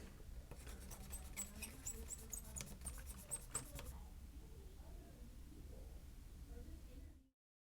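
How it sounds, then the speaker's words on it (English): A fiberglass pencil scrubs the plug contacts of a Lafayette 8-track player, making quiet, rapid scratchy strokes for several seconds before fading into soft rustling. "I'm just going to clean up these plug contacts with a fiberglass pencil"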